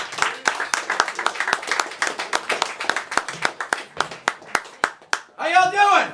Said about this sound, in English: Clap it up for Paulie Lipman